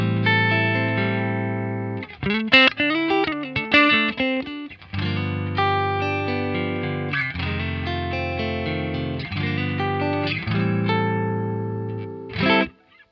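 Clean electric guitar through a Marshall amp's clean channel plays sustained chords and single-note phrases, ringing with a bright, warm tone and short pauses between passages.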